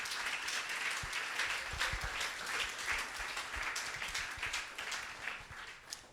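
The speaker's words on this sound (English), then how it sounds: "a round of applause for this year's students of TypeParis" Audience applauds for a group of design students, dense steady clapping filling the room for several seconds without talk.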